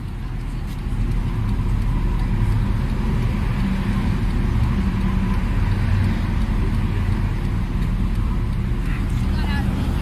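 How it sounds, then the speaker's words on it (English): A truck rolls past on a road in steady, heavy low rumble of traffic noise that fills the whole stretch, loud and continuous with wind buffeting, while people talk over it. "there's another truck coming here"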